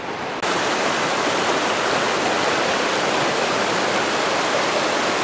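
A small creek near the Colorado River at the bottom of the Grand Canyon rushes steadily, a loud, close, hissing wash of flowing water that starts abruptly after a brief quiet moment and continues evenly.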